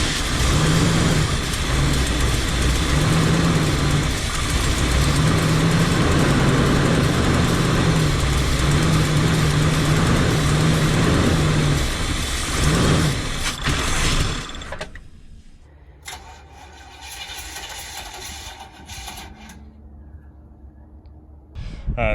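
An old Barth motor home's engine runs roughly on ten-month-old fuel, a loud continuous drone with uneven surging for about fourteen seconds before it cuts out, leaving quieter mechanical clatter and rattling afterward.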